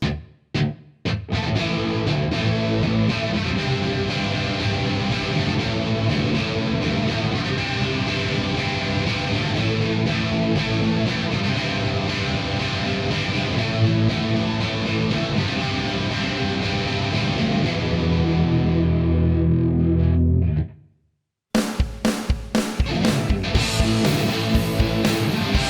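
Crunchy distorted electric guitar played through a Boss DS1 distortion model in a Fractal FM3, with distortion at 7, tone at 4 and added high cut, chasing an early tone. It rings loud and continuous for about twenty seconds, stops briefly, then resumes with choppy strums.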